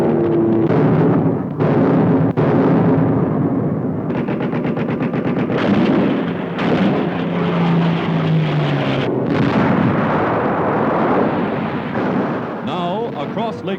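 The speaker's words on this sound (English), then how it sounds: "one after another, the once invincible Nazi warplanes are shot to earth in flames." Wartime newsreel combat sound as Nazi warplanes are downed in flames: rapid machine-gun bursts and booming gunfire over a roaring background, loud and continuous, with a narrator's voice woven through.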